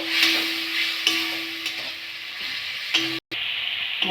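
Spice masala for a Bengali gagra fish curry fries with a splash of water, a close, steady sizzle broken by stirring clacks and a brief pause near the end.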